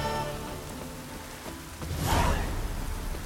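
Steady rain patters in The Witcher 3: Wild Hunt, a continuous soft hiss that swells slightly louder partway through, with no voices over it.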